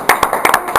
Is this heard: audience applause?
yes